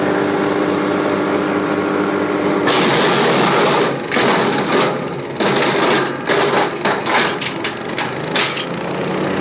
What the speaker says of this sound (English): each chipper now is just going to have a nice bit of timber going through it